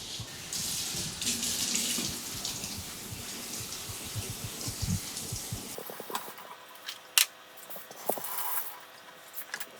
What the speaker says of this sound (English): So I'm just gonna rinse off my blackberries, and then I'll wash and chop up my pears.